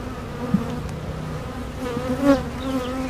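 Honeybees humming steadily around an open hive during a routine inspection, a close continuous buzz with individual bees passing near, no talking.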